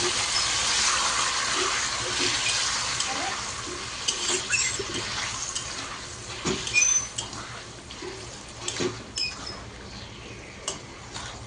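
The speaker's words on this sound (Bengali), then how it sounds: "হালকা মতন জল দিয়ে দিলাম" A little water poured into a pan of fish curry gives a splashing, bubbling wash that starts loud and eases off into softer gurgles and scattered clicks, close by with no speech.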